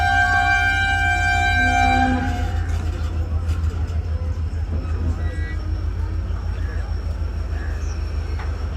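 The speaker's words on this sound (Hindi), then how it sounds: "फिर ट्रेन ने हॉर्न दिया और ट्रेन चल पड़ी अपनी अगली मंजिल की जानिब।" A train horn sounds in long sustained tones for about two seconds at Landhi railway station in Karachi, then gives way to the steady low rumble of a train moving off, with faint voices.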